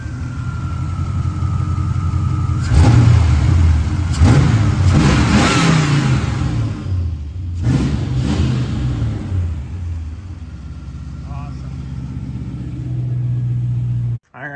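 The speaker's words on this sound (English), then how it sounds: "That's what 8 cylinders should sound like." A Mazda B4000 pickup with a swapped-in LT1 V8 runs close by, barking through several hard revs in the first half before settling into a steady, loud rumbling idle, with the engine cutting off at the end.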